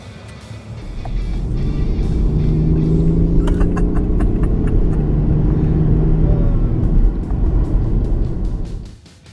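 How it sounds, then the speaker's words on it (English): A deep diesel engine in a 2017 BMW 7 Series revs steadily, a loud rumbling growl that holds for several seconds before easing off. "Just listen to the sound this engine makes."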